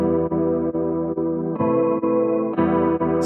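An electric guitar run through effects such as chorus and distortion plays sustained, evenly pulsing chords that step up in pitch, part of a melodic techno track, alone with no talk.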